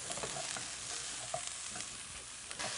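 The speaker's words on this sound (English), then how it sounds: "you can reduce it with the red wine as well" Red wine bubbles and reduces in a braising pan, giving a steady, close sizzle with soft crackles throughout and no voices.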